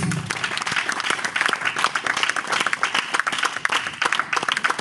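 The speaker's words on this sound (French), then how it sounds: "Si tu comprends, tu vas acclamer Jésus." An audience applauding during a French-language church sermon, steady dense clapping from a crowd filling the room, loud and close throughout.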